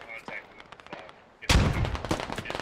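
Gunfire in the military shooter SquadOps, scattered single shots at first, then a sudden loud close burst of rapid automatic fire that keeps rattling to the end, with voices faintly underneath.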